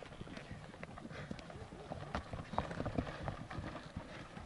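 Rapid hoofbeats of a galloping pack horse in Mongolia thud and clatter at a moderate distance, a rough continuous rhythm with faint voices underneath.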